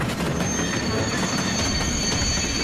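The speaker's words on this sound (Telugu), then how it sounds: "త్వరగా ట్రైన్ ని స్లో చేయండి." A cartoon train slows with continuous loud wheel squeal and rumbling rail noise, close and unbroken, with no talking.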